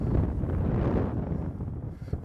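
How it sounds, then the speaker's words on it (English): Wind gusting outdoors during a horseback riding session, a steady roaring buffet of wind noise against the microphone with no talking. "I feel like a gust of wind is going to take this hat."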